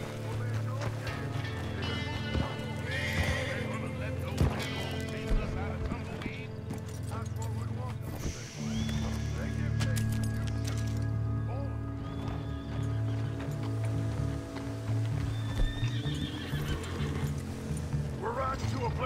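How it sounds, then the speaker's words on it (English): A horse clip-clops at a steady gait and whinnies in Red Dead Redemption 2 online, heard under game music and ambient effects. Players talk over it now and then. "Right, going on horse."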